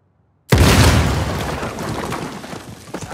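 A sudden loud explosion bursts out of silence in the video game Uncharted 4, a deep booming blast that rolls on as a long rumbling, crackling tail with scattered debris pops.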